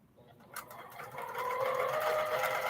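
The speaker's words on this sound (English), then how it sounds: "My thing is I do free motion quilting on this domestic machine here." A domestic sewing machine doing free-motion quilting on strips of quilt fabric, its motor whirring up from quiet into a steady, fast, high buzzing stitch that runs continuously to the end.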